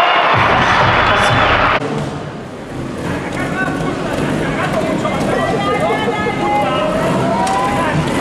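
An indoor crowd at a 2023 trial show in Chambéry applauds rider Jaime Busto, with a loud burst of clapping and cheering that quickly drops to a softer crowd murmur while an announcer talks over it.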